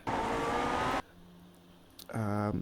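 A Lotus 49 race car in iRacing roars at high revs, drops off abruptly, then revs back up sharply after a short lull, loud and close with a buzzy engine tone.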